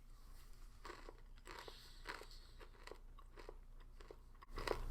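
Dry roasted soy nuts from a 2022 halal MRE being crunched and chewed up close, with repeated sharp bites and grinding crunches in an irregular rhythm, ending in a louder burst of crunching.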